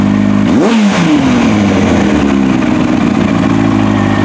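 A Yamaha R1 sport motorcycle engine, a project bike, blips up in a sharp rev and then drops back to a loud, steady idle, heard close and alone.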